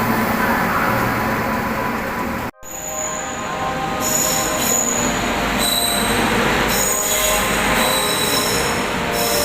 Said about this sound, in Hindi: इस ट्रेन का डिपार्चर हो गया है। छत्रपति शिवाजी टर्मिनस टू हज़रत निज़ामुद्दीन राजधानी एक्सप्रेस।